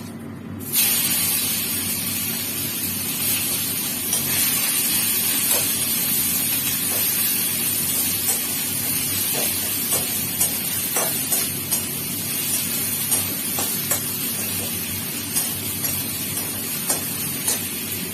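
Dried chillies and onions fry in hot oil with a loud, steady sizzling hiss that runs throughout, dotted with small crackles and pops.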